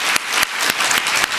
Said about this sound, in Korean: 자, 우리 승리의 박수 한번 칩시다.